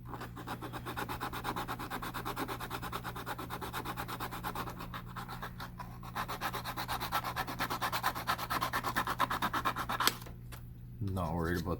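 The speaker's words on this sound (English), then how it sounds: "Just gotta get rid of this excess glue now." Excess glue being rubbed and scraped off a scale model during a Miranda/Hornet refit: a rapid, rhythmic sanding and scratching that runs for most of the time, close and steady, over a low background hum, stopping briefly near the end.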